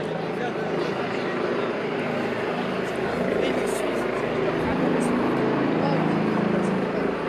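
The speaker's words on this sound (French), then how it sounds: "j'ai l'hélico juste au-dessus de la tête" A helicopter hovering overhead during a street protest, a continuous rumbling drone filling the background while people talk in the foreground.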